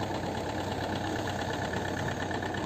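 A Kobelco SK50P mini excavator's diesel engine runs at a steady idle, a constant close-up drone and rattle with no variation and no voices over it.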